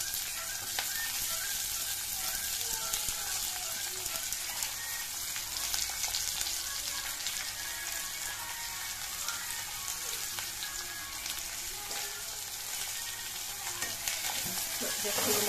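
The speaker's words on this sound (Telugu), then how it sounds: "సో మన ఆనియన్స్ వేగిపోతున్నాయండి" Onions, green chillies and curry leaves frying in oil in a pan, a loud, steady, close sizzle that hisses on without a break, like light rain on a surface.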